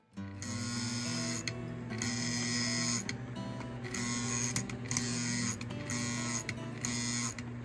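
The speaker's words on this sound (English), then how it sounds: "As you can hear, the E unit is cycling." The E unit of a non-running Lionel 204 Santa Fe Alco toy diesel locomotive cycles with a close electric buzz. The buzz pulses in repeated bursts of a few seconds each, with no speech.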